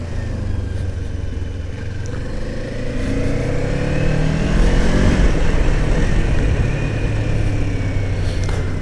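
A Kawasaki Ninja 500 motorcycle rides along a road, its engine droning steadily and then rising in pitch as it accelerates, loud and close with wind rush.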